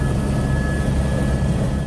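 Steady, loud engine drone of a helicopter flying over Lake Itaipu on the Brazil–Paraguay border, a continuous hum with no talking.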